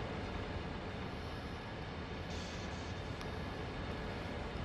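A train rolls by close to a local train yard, a loud, steady rumble of wheels and cars that fills the whole stretch without letup.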